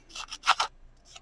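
Deckled edge scissors snip through paper to cut out postage-type stamps, a few quick crisp rasping cuts in close succession, close and fairly quiet, with no talking.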